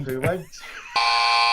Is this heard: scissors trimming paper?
no